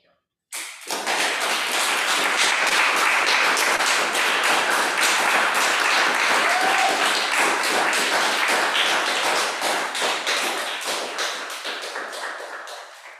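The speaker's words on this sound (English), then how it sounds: "By applauding you, we applaud to ourselves too as volunteers and leaders in Toastmasters and outside of Toastmasters." An audience applauds at a Toastmasters meeting, with steady, dense clapping starting abruptly, holding at an even level for about twelve seconds, then slowly thinning out toward the end.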